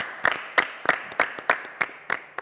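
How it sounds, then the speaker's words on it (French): A few slow, evenly spaced claps, about eight sharp hand strikes in a row, sounding like a small sparse round of applause at a talk show taping. "Merci, on peut applaudir."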